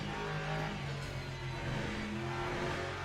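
A race car engine in a Le Mans racing video game, a steady droning roar with rising and falling revs, continuous and fairly distant.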